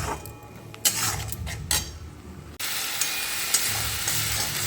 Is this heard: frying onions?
yes